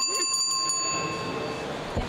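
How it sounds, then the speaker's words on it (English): A hand bell carried around the pits at a 2019 FRC robotics competition rings with clear sustained metallic tones that fade slowly over a noisy, crowded hall, with a few quick strikes near the start. "we have a bell that we walk around the pits with"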